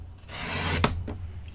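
A blade rasps along paper while a gift box is cut at a marked line, a short scraping stroke close up and quiet. A faint crisp snap follows, with no talking.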